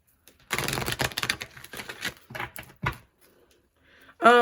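Crystal oracle cards shuffled by hand, a close burst of rapid riffling clicks and flutters lasting a few seconds, then a couple of softer taps and a brief pause before a final sharp clatter.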